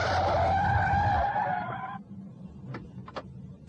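A car in a radio drama skids to a halt, its tyres screeching loudly for about two seconds. A few faint, brief knocks follow in the quiet.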